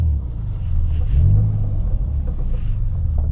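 An Alfa Romeo GT engine rumbles steadily as the car pulls away through a car park exit, a low throaty drone that rises briefly in pitch as it accelerates, then settles, heard close with no talk.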